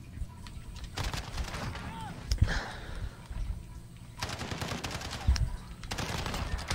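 A Striker shotgun firing in Call of Duty Modern Warfare, with rapid bursts of gunfire in several clusters over game noise and a few heavy booms, close and loud, as a voice talks at times.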